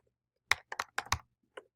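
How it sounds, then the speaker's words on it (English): Several quick keyboard keystrokes in a short irregular burst, with a pause before one last tap; close and fairly clear, no talking. "I am typing"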